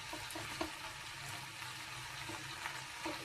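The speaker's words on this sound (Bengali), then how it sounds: "ভেজে রাখা কুমড়ো আর আলুগুলো দিয়ে দিলাম। এর সঙ্গে মিশিয়ে নেবো ভালো করে।" Fried pumpkin and potato pieces tumble into a pan and are mixed through a simmering Bengali pachan, giving a soft steady sizzle with faint scraping stirs, quiet and close.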